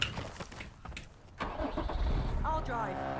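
A car engine in the video game Call of Duty Black Ops Royale cranks and catches, then settles into a low idle under players talking.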